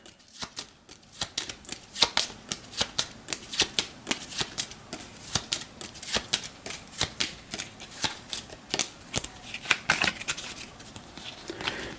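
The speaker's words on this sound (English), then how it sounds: "Then we'll take the top card of the deck, shuffle these up." A deck of Terra Mystica board game cards is shuffled by hand, giving a close run of quick, crisp riffling clicks and soft flaps in uneven bursts with no talk.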